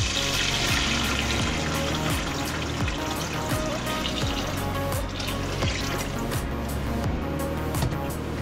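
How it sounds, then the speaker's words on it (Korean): Liquid deodorizer poured into a camper van toilet, a continuous close splashing and gurgling pour that runs steadily and loudly throughout without talk. "화장실에도 변기통에도 이렇게 부어줍니다"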